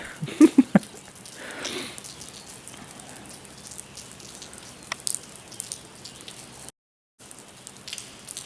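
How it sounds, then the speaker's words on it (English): Steady rain falls across a state park, with a soft, even patter, scattered nearby drips, and a brief dropout near the end. "This is how bad it's been raining."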